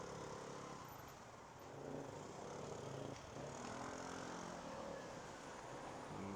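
An airplane passes over near Sepang, Malaysia, a faint, distant, steady engine drone that swells slightly midway, with no talk over it.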